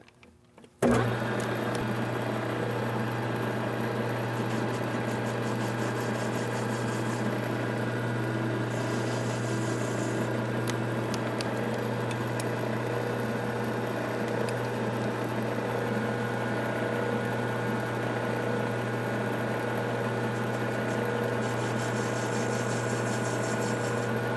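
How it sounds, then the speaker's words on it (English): A metal lathe spins steadily while a small carbide bit chamfers the outside edges of a ring, a constant close motor hum and whine with faint scraping tones lasting throughout. "So we're going to chamfer the edges, or the outside corners now, with this little carbide bit I've got."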